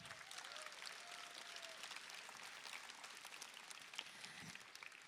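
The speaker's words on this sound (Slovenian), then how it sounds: "en aplavz za njega." At a choir concert in Maribor, the audience applauds the pianist with a continuous, even patter of many hands, heard at a distance and fairly quiet.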